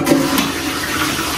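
A toilet flushing in a hotel bathroom in Amsterdam, a steady loud rush of water lasting throughout with no talking over it.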